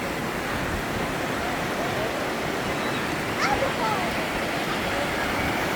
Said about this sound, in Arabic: حسام السابوح يخاف يطب بهذا المي، يقول قوي يابا